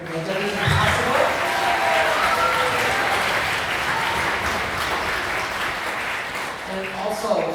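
Audience applause fills a school auditorium after a symphonic band concert, a dense, sustained wash of clapping lasting several seconds, with a voice briefly audible near the end.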